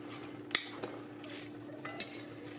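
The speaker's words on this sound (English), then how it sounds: "We want to put everything in the bowl. I'm going to use a fork." Fork scraping and clinking against a bowl while moving drained sauerkraut for a Polish salad; two sharp metallic taps stand out over a soft background hum, with no talking.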